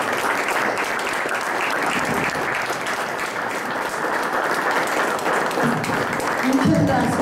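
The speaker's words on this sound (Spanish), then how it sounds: "les pediría para Enrique Dussel 1 minuto de aplausos" A lecture-hall audience at a political culture symposium applauds steadily in honor of Enrique Dussel, a dense, even wash of clapping sustained throughout without letting up.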